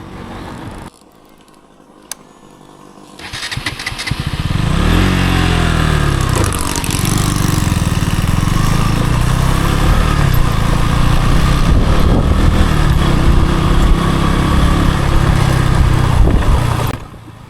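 A motorcycle engine drones loud and steady during an off-road ride along a dry riverbed track, rising from a brief quiet start into a sustained, rough roar that holds to the end.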